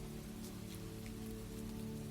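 Steady rain falls on surfaces as a dense, even hiss with soft pattering drops, constant and unbroken, heard alone with no voices.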